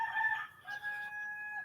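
A single rooster crows once in a drawn-out, strained cock-a-doodle-doo, loud and fairly close, with no other sounds around it.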